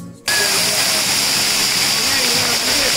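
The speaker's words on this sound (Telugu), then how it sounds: "ఈ కైలాస కోనలో సుమారు 60 అడుగుల ఎత్తు నుండి పైనుంచి కిందకి పడే అద్భుతమైన జలపాతం ఉంది" A waterfall dropping about 60 feet at Kailasa Kona produces a steady, dense roar that begins abruptly and continues strongly, while a voice talks over it.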